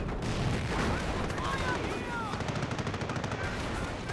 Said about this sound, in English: Going back through the gauntlet of artillery.